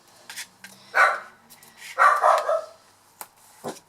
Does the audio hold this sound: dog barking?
yes